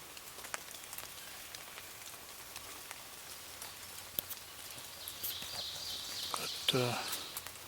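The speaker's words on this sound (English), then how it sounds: "rain has kind of slacked up now." Steady patter of rain falling on a surface during a turkey hunt, soft and continuous, with a few scattered drips and a brief louder clatter near the end.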